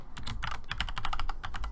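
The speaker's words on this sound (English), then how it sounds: "Logitech G610 Cherry Red MX keys." Rapid typing on a Logitech G610 mechanical keyboard with Cherry MX Red switches, a close, quiet flurry of quick keystroke clacks in an uneven rhythm.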